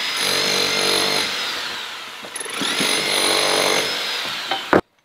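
Electric jackhammers breaking through bricks around a giant safe, two sustained, loud, close bursts of grinding, buzzing motor noise separated by a brief pause, ending with a couple of sharp knocks before cutting to silence.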